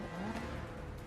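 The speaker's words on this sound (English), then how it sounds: "Firing up the Aston, Bond reverses out, flicks a J-turn and skids away through an archway" Aston Martin DB10 engine revving hard during a film car chase, a loud continuous roar with rising pitch as it accelerates, with no talk.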